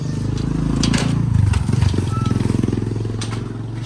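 A new Honda 160cc scooter engine runs steadily close by, with a throaty, even idle and a slight swell in revs partway through. There is no talk over it.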